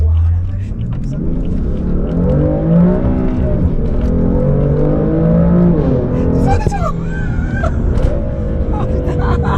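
A BMW M3 accelerates hard from inside the cabin, its engine note climbing and falling through repeated loud revs, with excited voices talking over it and a sharp squeal near the end.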